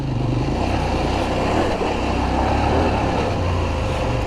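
A CFMOTO 800MT-X (IBEX) motorcycle engine pulls steadily up a steep, slippery, dry graded off-road climb, a continuous loud droning rumble that stays close throughout with no talk.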